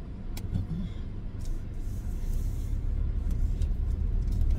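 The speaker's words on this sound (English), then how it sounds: "It's traffic, y'all." Road traffic with cars driving by, a steady broadband rumble that swells slightly, with faint clicks and brief higher hiss bursts, close and continuous with no talking.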